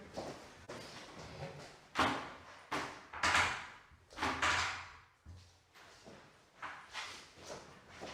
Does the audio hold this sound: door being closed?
yes